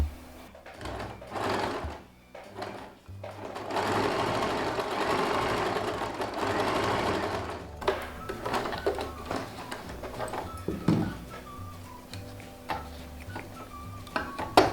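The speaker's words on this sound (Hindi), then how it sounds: "अब इसके ऊपर आपको अच्छे से स्ट्रॉन्ग 2-3 सिलाई डाल देना है" A sewing machine stitches elastic onto an Afghani salwar, running close in several bursts with short pauses and clicking handling noises between them.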